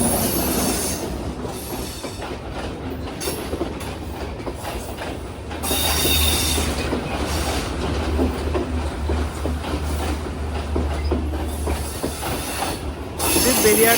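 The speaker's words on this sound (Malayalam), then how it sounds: "ഈ ട്രെയിൻ ഓവർടേക്ക് ചെയ്യുകയാണ്." A second train passes and overtakes alongside a second-class coastal carriage on the Galle to Colombo line in Sri Lanka. A deep rumble and rhythmic wheel clatter swell midway and stay loud, with brief squeals, and no talk is heard.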